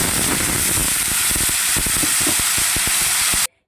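A spice paste of tomato, ginger, dried red chilli, cumin, coriander powder and cashew is added to hot oil and sizzles loudly with a steady bright hiss and crackle, then cuts off abruptly.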